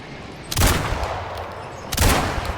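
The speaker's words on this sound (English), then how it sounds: "Yeah, the shotgun." Two loud shotgun blasts in the Resident Evil Requiem video game boom about a second and a half apart, each a sharp burst with a short rumbling tail, over a low ambient background.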